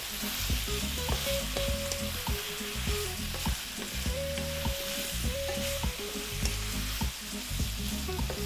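Carrots and onions frying in a pan over medium heat for a Middle Eastern lamb dish, a steady, dense sizzle running throughout with occasional stirring knocks.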